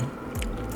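A single close, crisp crunch as someone bites into a waffle-pressed Vietnamese sticky rice cake (bánh chưng or bánh tét) with a crispy surface. It is brief, with soft chewing noise just after.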